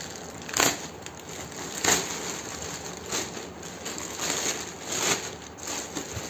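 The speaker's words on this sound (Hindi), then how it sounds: "इसको खोलते हैं पहले" A new Stanley tool bag being unpacked, with close crinkling and crackling of plastic wrapping and a few louder rustling bursts spread across the stretch, no voices.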